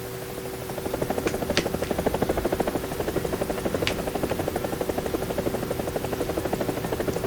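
A War Thunder helicopter's rotor thrums in a steady rapid pulse over a constant engine whine, loud and continuous, with a couple of faint clicks on top.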